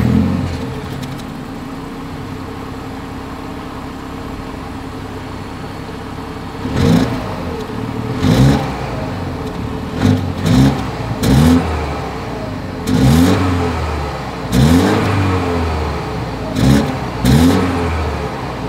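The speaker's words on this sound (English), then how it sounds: "here is that exhaust clip" A 2022 BMW 228i Gran Coupe with dual exhaust idles steadily, then gives about eight sharp, loud throttle blips in a row, each rev rising and falling quickly back to idle, close up with no talking.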